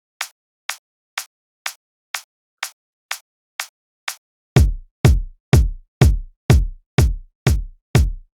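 A steady series of layered house-music kick drum sample hits: first thin clicky transients alone, then layered with deep booming low thumps, evenly spaced and loud.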